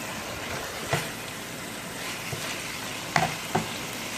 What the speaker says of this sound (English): My chorizo is already letting out oil.